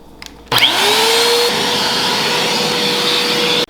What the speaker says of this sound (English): I use this vacuum way too much than I should